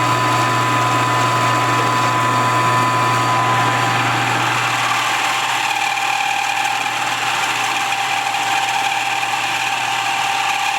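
A milling machine cuts metal with a custom-made cutter, producing a steady mechanical whine and hum with a continuous high-pitched edge, heard on its own without talk.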